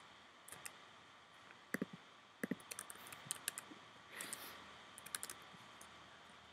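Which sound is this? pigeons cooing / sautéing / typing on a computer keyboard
typing on a computer keyboard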